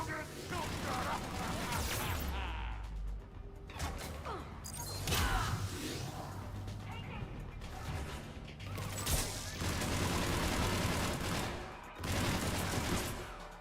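Mass Effect video game gunfire rattles in dense bursts of rapid shots, nearly continuous with brief pauses, loud and close, with voices talking over it.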